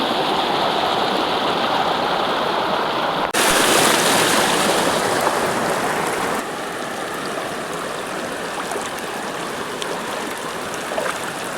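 Monsoon rainwater rushes through flooded village fields in Odisha, a loud continuous broadband roar of flowing water that surges louder for a few seconds midway before settling back.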